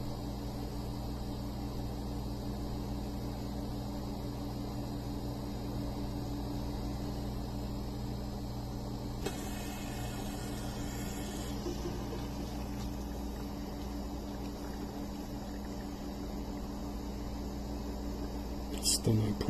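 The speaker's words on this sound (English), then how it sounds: "Motor's making a funny sound." Motor of a Reef Octopus Classic 90 hang-on-back skimmer pump that won't prime, a low steady hum with a faint hiss running throughout, a brief rattle near the middle and a small knock at the end.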